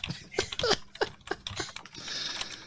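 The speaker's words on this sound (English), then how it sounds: "I'm typing now" Someone types on a computer keyboard in a run of distinct, close clicking keystrokes with an uneven rhythm, trailing into a faint hiss.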